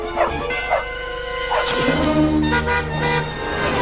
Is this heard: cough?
no